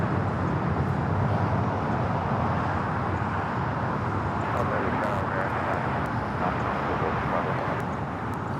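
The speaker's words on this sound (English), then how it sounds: "This is China Airlines Cargo 5382 taking off to Miami, Florida on the 777 freighter." A China Airlines Cargo Boeing 777 freighter takes off at Los Angeles airport, a steady broad roaring jet rumble heard from a distance that holds throughout without much change, with faint background noise.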